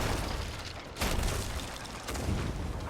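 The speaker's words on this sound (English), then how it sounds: "Oh, their cannon effect is awesome though." Cannon blasts in a pirate video game during a fort battle, with a heavy boom at about one second and a second, softer one near two seconds over a steady rumbling background.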